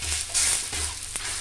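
Besan chilla sizzling and frying on an iron tawa with little oil, a steady close crackle with brief scraping stirs, no talking.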